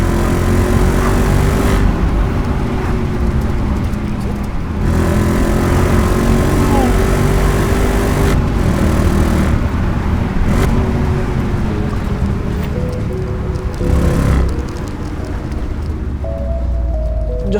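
Audi S4 engine droning and revving steadily while driving on country roads, loud and continuous, with pitch rising and easing as the driver works the throttle.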